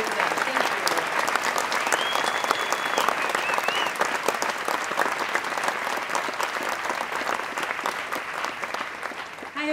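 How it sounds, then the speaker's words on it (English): Sustained, dense applause from a large audience for a choir and orchestra at a Candlelight Processional Christmas concert at Epcot, steady and full for the whole stretch with a faint whistle-like tone partway through. "Please give them another round of applause"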